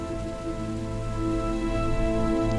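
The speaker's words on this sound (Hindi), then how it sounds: "रमेश बारिश में भीगता हुआ रो रहा है" Steady, even rain pours throughout, a dense continuous hiss that swells slightly louder toward the end, with a faint tonal drone underneath and no voices.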